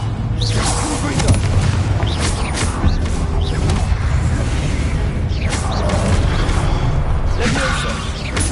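A Confringo spell blast in Hogwarts Legacy bursts out of dense, continuous game sound, with booming impacts, whooshes and creaking mechanisms all at a steady loud level and no talk.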